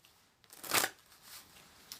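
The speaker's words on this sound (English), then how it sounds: "I will start doing some shuffling and maybe some drawing" A deck of tarot cards shuffled in one quick riffle, a short close burst of papery flutter that fades into quiet handling noise.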